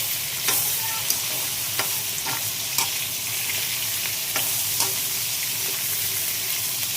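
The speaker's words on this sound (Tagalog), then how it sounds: "Nagisa na siya sa mantika" Chicken pieces sautéing in oil in a pot for tinola, a steady hissing sizzle close up with occasional spoon clinks and pops against the pot, no talk.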